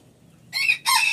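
A frizzle or fancy-breed rooster gives a short, close crow in two bright bursts, with a faint low hum beneath.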